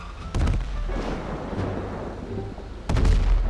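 Gunfire in a GTA 5 roleplay game session, two loud booming shots with rumbling echoes separated by a few seconds of low ambient noise, close and heavy.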